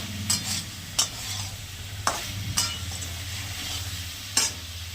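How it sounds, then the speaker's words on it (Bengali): Jackfruit and chana dal are stir-fried with Kashmiri chili powder in a pan, with a quiet steady sizzle and a few sharp scrapes of the spatula against the pan at irregular intervals. "আর একটু কাশ্মীর লঙ্কা গুঁড়ো দেবো। আর একটু কষাবো।"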